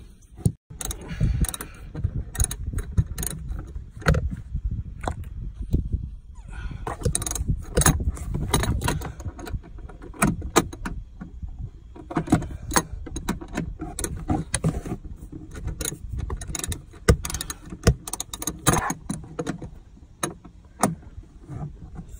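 A socket wrench works a center console bolt loose in a Chrysler Pacifica, a long run of rapid ratcheting clicks and metallic taps in irregular bursts, close up and moderately loud.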